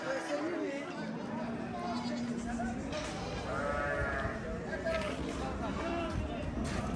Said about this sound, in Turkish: 25 adet dişi erkek karışık körpe kuzu.